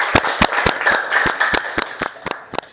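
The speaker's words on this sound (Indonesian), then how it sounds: "Tepuk tangan dulu untuk semuanya" A class of students claps in a classroom, a quick run of sharp, fairly close handclaps at an uneven rhythm, some overlapping, tapering off toward the end.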